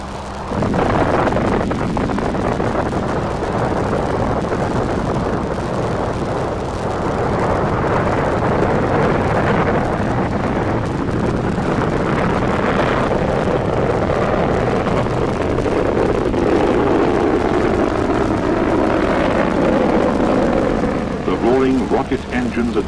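Soviet rocket engines roar at launch from Baikonur, a loud, sustained broadband rumble that holds steady for over twenty seconds and fades slightly near the end.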